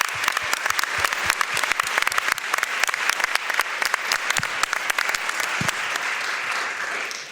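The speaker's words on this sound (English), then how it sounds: "So let's give them one more round of applause" An audience claps for multicultural high school student performers after their play, a loud, even round of applause that gradually thins toward the end without any voices.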